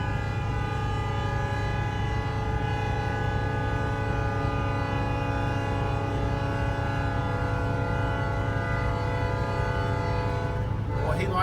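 A slow-moving freight train at a railroad crossing sounds its horn in one long, steady, loud blast with a rich chord of tones, continuing throughout with rumbling low-end noise from the train.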